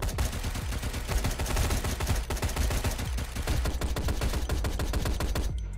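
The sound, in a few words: gunfire in a GTA-based roleplay video game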